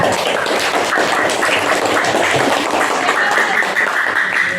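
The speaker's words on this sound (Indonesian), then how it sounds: "tepuk tangan untuk kelompok 3" A classroom group applauds together for a student team, sustained dense clapping filling the room steadily from start to finish.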